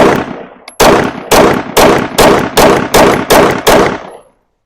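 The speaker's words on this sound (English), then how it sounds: "Let's keep firing." Nine loud, evenly spaced shots from a Sig P365 pistol fitted with a swapped fire control unit, each sharp crack ringing briefly before the next, close and alone with no voices.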